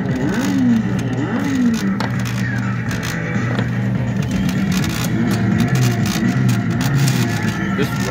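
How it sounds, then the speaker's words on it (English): An EMT Cars Dinoco Lightning McQueen coin-operated kiddie ride runs steadily with revving engine effects and clattering sound effects triggered by its pedals and buttons, playing loud and continuous throughout. "I'm gonna start off with the pedals and then the effect buttons."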